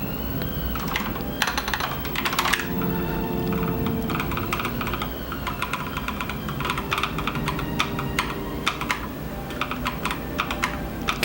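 Someone types on a computer keyboard at a desk in a continuous, close run of clicky keystrokes, with a few louder key hits and no talking.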